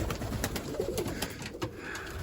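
Bango pigeons coo in a coop, soft low throaty calls repeating in close, overlapping bursts with faint rustling between them.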